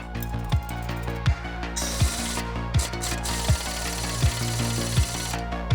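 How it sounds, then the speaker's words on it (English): A loud pneumatic impact gun tightens an axle nut during a clutch install, hammering in rapid bursts, with sharp rhythmic thuds roughly every three-quarters of a second over a constant mechanical whir. "you're going to use an impact gun, and you're going to go about 3-4 ugga-duggas."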